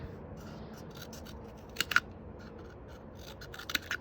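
Scissors snipping a cardboard paper towel roll, a few quiet, sharp cuts in quick pairs over faint room noise, close by.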